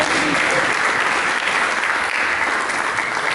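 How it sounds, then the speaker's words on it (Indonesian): A church congregation at a Christmas service applauds with dense, continuous clapping that stays loud and even throughout. "Mari kita berikan tepuk tangan yang meriah ini."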